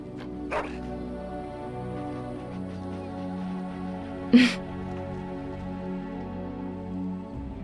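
A dog in the video game Dragon Age: Origins gives a couple of short barks, one sharp and close near the middle, over steady game ambience and music-like tones.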